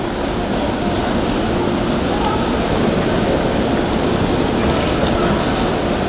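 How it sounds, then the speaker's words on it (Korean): Subway train running through a station or underground line, a steady loud rumble of rail noise with faint clatter, continuous across the whole stretch and heard alone without speech. "지하철이구나."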